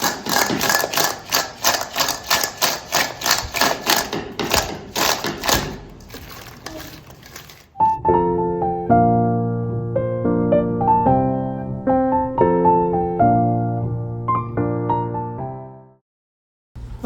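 A mixer grinder crushes ginger, garlic and green chilli for a Kerala-style crab roast, running in short rhythmic pulses for about seven seconds before music takes over.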